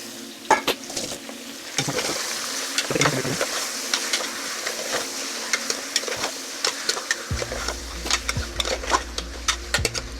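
Washed raw chicken being stirred in a pot, with repeated wet scraping and clinking of a utensil against metal at close range and a low hum starting partway through.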